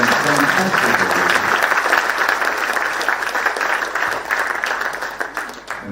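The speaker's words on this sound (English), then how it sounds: "please give a big round of applause one more time" Sustained audience applause in a hall after a medical oration on surgery, loud and steady throughout, with faint talk or music beneath it at the start.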